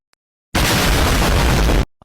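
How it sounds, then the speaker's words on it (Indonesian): A loud, sudden explosion bursts out and roars steadily for over a second before cutting off, standing alone with silence on either side. "Meledak."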